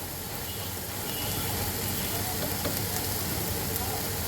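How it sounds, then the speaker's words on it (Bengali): Onion, ginger and garlic paste with spices frying in oil for a fish kofta curry, producing a loud, dense, unbroken sizzle heard close up. "এবার এটাকে সুন্দর করে ভাজতে হবে"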